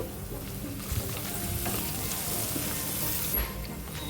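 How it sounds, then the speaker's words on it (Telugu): Chopped onions fry in hot oil with asafoetida and turmeric for a ridge gourd coconut curry. A steady, close sizzle runs throughout with occasional stirring scrapes. "కాస్త ఫ్రై చేసుకోవాలండి మరి ఎక్కువ ఫ్రై చేసుకోవాల్సిన అవసరం లేదండి పచ్చివాసన పోయేంత వరకు ఫ్రై చేసుకుంటే సరిపోతుంది"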